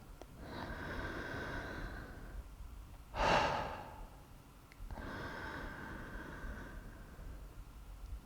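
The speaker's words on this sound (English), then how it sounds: "we can start to let it go out through the mouth. A nice soft exhalation," Breathwork with soft exhalations through the mouth: slow, airy breaths rising and falling, close and gentle, with one brief sharper sighing puff in the middle.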